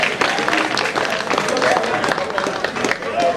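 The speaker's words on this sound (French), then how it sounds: "On applaudit très fort." Wedding guests at a religious ceremony applaud a couple as they are welcomed, a dense sustained clapping with crowd noise mixed in.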